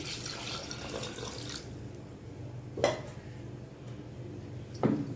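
Two glasses of water run and splash into a cooking pot, followed by a couple of sharp metallic clinks of cookware, heard close up with no talking.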